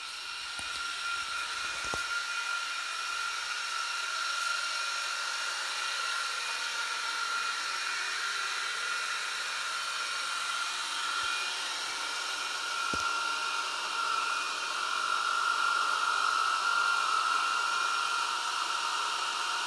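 Deebot R96 robot vacuum running steadily across a floor, a continuous even whirring hum with a faint tonal whine, close by and alone with no talk.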